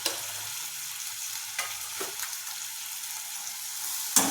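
Spices with cumin and turmeric fry in hot oil for fenugreek chutney, giving a steady close sizzle throughout, with a few soft scraping stirs of a spoon against the pan and no talking.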